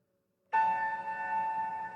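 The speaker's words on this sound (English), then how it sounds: "we'll hear a final bell" A meditation bell is struck once to close a mindfulness practice, giving one clear ring that sustains with a long, bright tonal decay in a quiet room.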